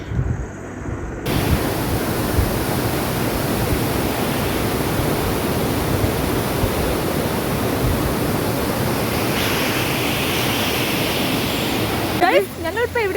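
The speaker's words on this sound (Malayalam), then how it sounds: "നിങ്ങൾക്ക് ഇപ്പം തന്നെ കാണാം അതിൻ്റെ അടിയിൽ കൂടെ പോണ വെള്ളത്തിൻ്റെ ഒരു ഇൻറ്റൻസിറ്റി" Strong water rushing beneath a bridge at Meenvallam waterfalls in Palakkad, a loud, constant broadband roar that fills the whole stretch, with some wind buffeting on the microphone.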